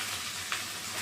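Boiled noodles frying in a pan with fried potato and egg, a dense, even sizzle with a brief stirring scrape midway, close and steady with no talking.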